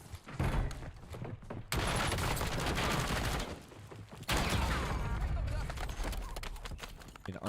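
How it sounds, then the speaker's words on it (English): Loud, rapid bursts of gunfire crackle in a shooter video game, with a dense volley, a short lull, then another sustained stretch of shots. "Shooting over up the hill."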